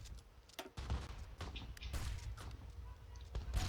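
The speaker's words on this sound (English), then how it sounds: "Look at those fireworks." Fireworks go off in the Hearts of Iron IV strategy game with the Kaiserreich mod: a faint, steady stream of crackling pops and muffled thumps with no talking.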